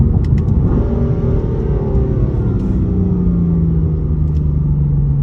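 A turbocharged F82 BMW M4 engine rumbles steadily and loudly, its pitch climbing gradually as it accelerates, with no talking.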